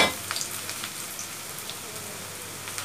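Onions sizzle and crackle in a pan as they fry to brown, a soft steady hiss with scattered pops and faint stirring.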